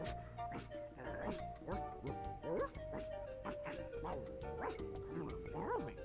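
A dog in The Secret of Monkey Island video game gives repeated short yips and whimpers, mixed with game music and overlapping speech.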